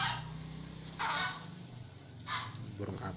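Two loud honking calls from a Kaok Kaok bird ring out a second apart over a low, steady background hum, with a faint voice near the end.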